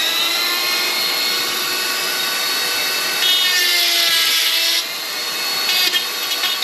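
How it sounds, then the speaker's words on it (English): A grinder cuts through a seized nut and bolt on the transfer case flange of a 2016 Chevy Equinox V6 3.6L AWD. A continuous, loud, high-pitched whine runs steadily and rises in pitch briefly midway. "we're still grinding away at the other one"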